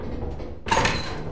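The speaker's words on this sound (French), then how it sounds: "J'ai fermé la porte, c'est bon." The ship door in Lethal Company shuts with a single sharp mechanical thud and whoosh over a low, steady background hum.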